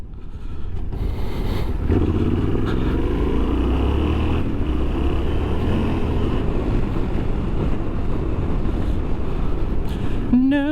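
A motorbike engine drones steadily while riding a trail, close and loud with heavy wind buffeting throughout, and a brief revving whine near the end.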